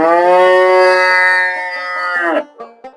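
A loud, close Holstein Friesian cow at a dairy farm gives one long, drawn-out moo that bends down at the end, followed by a few short rustling sounds.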